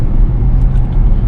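Inside a 2022 Dodge Durango SRT, a loud, low, continuous rumble from the suspension and tires rolling over a washboard road surface fills the cabin with dense, close vibration.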